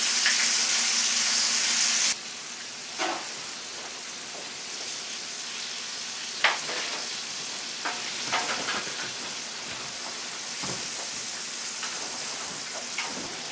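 Chicken pan-frying in hot oil in a cast iron skillet, a steady close sizzle throughout, louder and hissier for the first two seconds, with occasional pops and clinks scattered across the rest.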